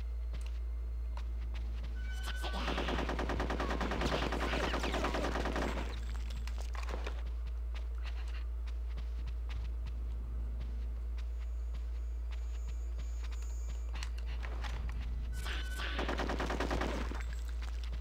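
Rapid automatic gunfire in the video game Conker's Bad Fur Day, sounding in two sustained bursts at the start and near the end over a steady low game hum, with quieter game noise in between.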